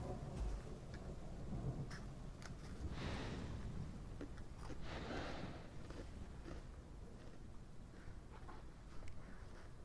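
Rain and thunder in the video game Path of Titans: steady dense rainfall with low rumbling thunder swelling and fading throughout, a continuous stormy wash with no talk.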